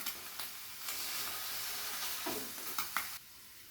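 Vegetables fry in a pan with a loud, continuous sizzling hiss, broken by a few clinks of stirring before the sound drops off.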